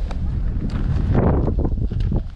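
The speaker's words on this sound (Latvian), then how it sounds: "Pamatīgs jau virsotnes vējš jūtams." Strong wind on the summit of Scafell Pike, England's highest mountain, roaring and buffeting the microphone in a loud, continuous rumble with gusty surges, close and dominant throughout.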